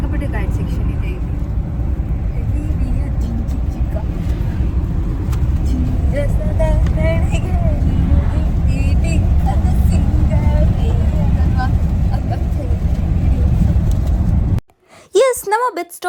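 Heavy road traffic of cars and buses forms a dense, loud, continuous roar with voices over it. The noise cuts off abruptly near the end, leaving short bursts of speech.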